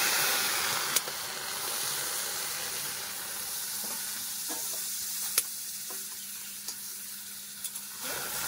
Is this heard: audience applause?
no